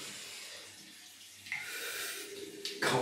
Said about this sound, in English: Drain the old sink.